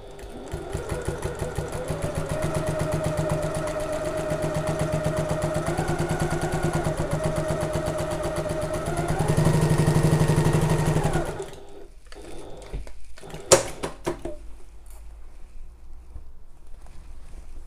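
A sewing machine stitches a messenger bag in a fast steady rattle that speeds up briefly before stopping, then gives way to quieter handling noises and a few sharp clicks.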